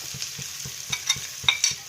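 Fried coconut pieces sizzle in hot oil for Kerala chickpea curry while a spoon or spatula scrapes the pan in a quick, regular rhythm, close up with a few louder clinks.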